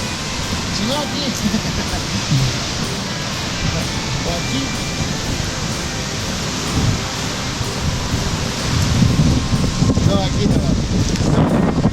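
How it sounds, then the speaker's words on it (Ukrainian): Strong, steady wind roars and buffets the microphone throughout in Perito Moreno, Argentina, with a voice talking underneath and gusts rising toward the end. "Вітер просто шалений скрізь"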